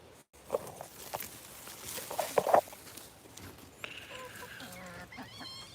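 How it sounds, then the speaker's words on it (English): A chicken gives a few short, soft clucks at a distance outdoors in a garden where seedlings are being planted, with faint rustling and scattered small noises around it. "Hey, chicken."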